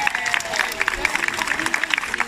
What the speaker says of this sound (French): ceux qui pensent que l'idée de Félix est la meilleure, applaudissez fort!